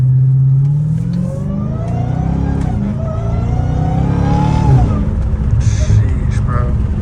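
A car engine revs hard and climbs through its gears, the loud mid-pitched roar rising and shifting repeatedly at close range.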